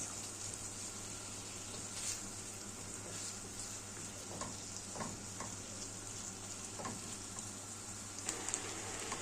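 Onion frying with chicken gizzards in a pan makes a constant bright sizzle, with small pops and a few soft stirring scrapes. It stays close and even throughout, with no speech.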